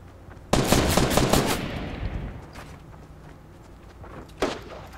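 Video game gunfire: a burst of rapid shots from far away opens the scene, followed by a fading rumble and one more lone distant shot near the end.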